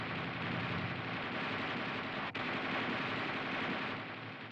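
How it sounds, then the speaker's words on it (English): A tank's coaxial machine gun fires in long 20 to 25 round bursts, a dense, continuous rattling roar with one momentary break, loud and unbroken by voices. "The gunner continues to fire in 20 to 25 round bursts"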